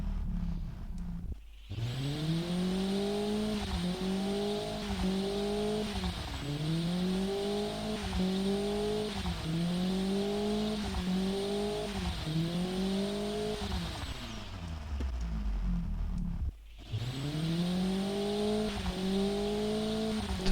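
A turbocharged car engine in the Automation game revs repeatedly up to redline, rising whines climbing and dropping in a steady cycle, with a couple of short cut-outs between runs.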